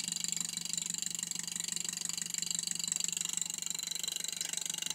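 An electromagnetic pulse motor running on 19 volts at 1.5 amps, its coil firing with small sparks. It makes a rapid, steady pulsing buzz over a constant hum and bright hiss, close and even throughout.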